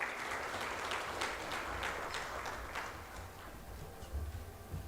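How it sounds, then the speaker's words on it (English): An audience claps steadily in a broad, sustained wash of applause, moderately loud and continuous with no voices over it. "Let's give him a big round of applause."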